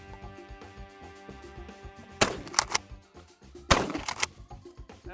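Two loud pump shotgun shots at a moving target ring out a second or so apart, each followed by quick clacking of the pump action, over a steady musical background.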